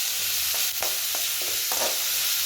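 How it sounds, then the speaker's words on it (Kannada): Onions fry in a pan with a steady sizzle, while a utensil stirs them in several distinct scraping strokes. "ಈರುಳ್ಳಿ ಫ್ರೈ ಆಗೋಕ್ಕೆ ಮಾತ್ರ ಸ್ವಲ್ಪ ಉಪ್ಪು ಹಾಕ್ಕೊಳ್ಳಿ"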